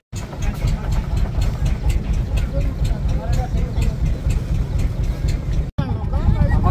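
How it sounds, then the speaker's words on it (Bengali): A boat engine drones loud and steady as a boat sets off on a Sundarbans tour in Bangladesh, a rumbling throb with voices talking over it throughout. "আমাদের নৌকা ছেড়ে দিয়েছে"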